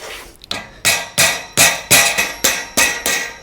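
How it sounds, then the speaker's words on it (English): End caps tapped onto the low bed bars of a Malone MicroSport off-road tent trailer with a hammer: seven sharp, evenly spaced metallic strikes, close and loud, with no talk. "Then we'll tap these end caps on."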